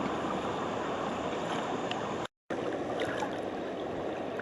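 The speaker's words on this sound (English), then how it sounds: "Water's really moving through there." The Watauga River rushes fast past a kayak in a steady, full broadband wash of flowing water, with a short dropout partway through and no voices.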